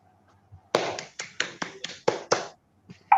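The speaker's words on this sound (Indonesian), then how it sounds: "Beri tepuk tangan dulu buat Mbak Nurfina dan kelompok 1." A school class claps for a group after its presentation: about seven sharp, separate, close bursts of clapping in a quiet room, then near silence.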